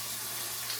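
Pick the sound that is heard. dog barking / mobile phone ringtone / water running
water running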